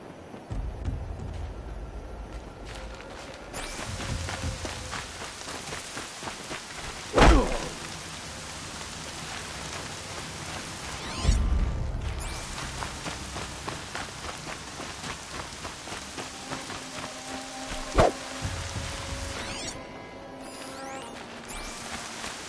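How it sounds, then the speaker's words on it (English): Steady rain in the video game Horizon Zero Dawn, a constant dense downpour hiss with rolling thunder rumbles and sharp cracks at intervals, and no talk. "Rain's not so bad."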